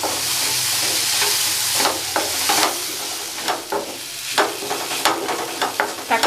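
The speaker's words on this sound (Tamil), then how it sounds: "தக்காளி நல்லா வதங்கட்டும்." Chopped tomatoes sauté in a pan with a loud, steady sizzle. Irregular scraping and clinking strokes of a spatula come through more often toward the end, with no speech.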